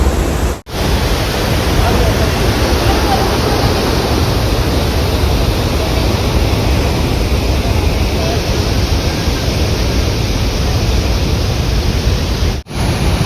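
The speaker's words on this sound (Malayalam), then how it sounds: "അപ്പോൾ ആതിരപ്പള്ളിയിലെ വെള്ളച്ചാട്ടം കണ്ടോ?" The Athirappilly waterfall in Kerala roars as a loud, continuous broadband rush of falling water close by, unbroken apart from two brief dips.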